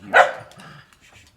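A single short dog bark lands near the start, loud and close, then trails off into quiet room noise with faint low rumbles.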